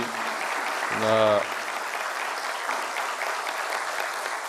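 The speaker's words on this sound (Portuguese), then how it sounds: "queria pedir uma salva de palmas a vocês" Audience applause for federal university and institute rectors at a meeting with the President, steady dense clapping across the whole clip, with a brief voice speaking near the start.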